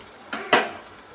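Spoon scraping and clinking in a pan while cooked rice is stirred into fried okra, two quick knocks in a row, the second louder, close up.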